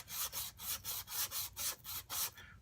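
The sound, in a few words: plane iron rubbed back and forth on sanding surface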